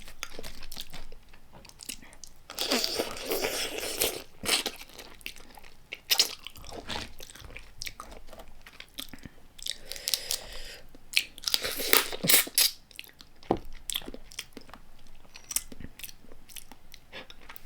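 Close, wet chewing and crunching of spicy blue crab papaya salad, with bites and crunches repeating irregularly throughout and no talking.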